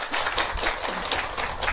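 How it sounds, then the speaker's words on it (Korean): A small group clapping during a self-support center mindset training session, a brief, fairly even patter of hands lasting under two seconds at moderate volume. "박수 쳐주세요"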